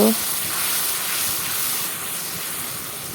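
Liquid poured into frying spices in a pan while cooking a Bengali fish and potato curry, producing a steady, loud broadband sizzle and hiss that fills the clip close up, with no clear talk.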